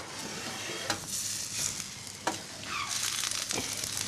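Duck pieces sautéing in a pan, a steady soft sizzle with a few sharp stirring clacks and scrapes, close and fairly quiet.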